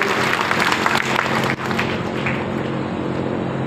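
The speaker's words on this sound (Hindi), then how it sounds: "जरा उनके सम्मान में एक बार जोरदार ताली बजाकर उनका सम्मान करें" Strong crowd clapping at a political party conference in Bhind, Madhya Pradesh, honouring a national general secretary, steady and dense throughout with a brief dip partway.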